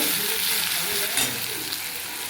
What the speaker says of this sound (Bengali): আদা বাটা দিয়ে একটু ভেজে নেব